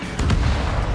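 Missile launch and explosion in the combat flight game Ace Combat 7, a sudden low boom followed by a sustained rumbling roar lasting about a second, loud and alone.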